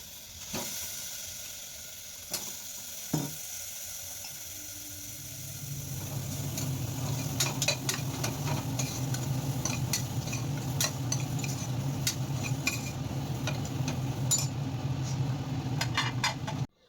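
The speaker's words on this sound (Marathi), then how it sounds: "आता हे छोटे कांदे आपण फोडणीत टाकून घेऊया आणि जरा दोन मिनटं परतवून घेऊया" Small whole onions tossed into hot tempering oil and sautéed, starting with a few sharp clinks, then swelling into a steady loud sizzle that runs to the end.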